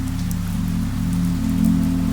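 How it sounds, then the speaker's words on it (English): Steady rain falls continuously, a dense even patter with a low constant hum beneath it, no voices present. "The rain had just started when I stepped inside the bar."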